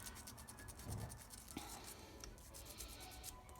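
Hand filing of jewelry chain links, a quick run of short, faint rasping strokes repeated in an even rhythm, close up and quiet.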